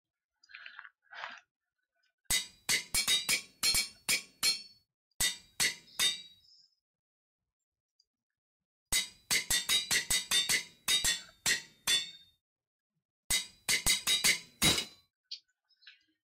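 In the Minecraft GregTech 6 game, a hammer crafts metal plates with sharp metallic clinks. Three rapid bursts of evenly spaced strikes are separated by silent pauses.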